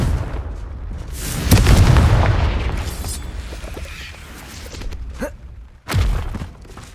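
A Confringo fire spell cast in the Hogwarts Legacy video game bursts as a heavy booming blast, followed by a rumbling tail and a second sharp thud near the end, with no voices.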